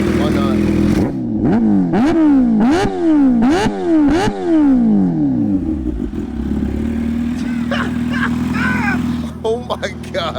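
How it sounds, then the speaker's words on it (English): A Kawasaki Ninja H2 motorcycle engine revs hard, several loud rising and falling blips in quick succession, then settles into a steady idle with faint voices under it. "I'll give y'all a couple revs."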